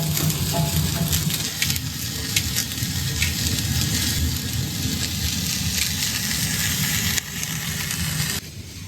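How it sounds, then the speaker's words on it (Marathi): Onion fries in oil in a kadhai, giving a loud, dense, continuous sizzle that holds steady and then drops off slightly near the end. "तर आपण कांदा तर कढईमध्ये टाकलाय"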